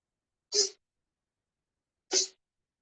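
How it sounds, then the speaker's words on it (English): Two sharp sneezes, spaced about a second and a half apart, expelling water from the nose during yoga practice, close and clear against silence. "So I keep on sneezing out until the water comes out from my nose"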